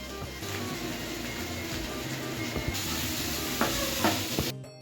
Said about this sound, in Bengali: এবার দিয়ে দেবো লঙ্কা আর টমেটো কুচি। এবার ভালো করে ভেজে নেব।